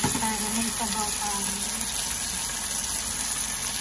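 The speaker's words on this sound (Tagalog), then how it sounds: "Lagyan natin ng tubig ko lang para may sabaw pa." Water poured into a pan of sautéed onions and canned sardines, a steady broadband hiss and gush with faint sizzling underneath, continuous and fairly loud throughout.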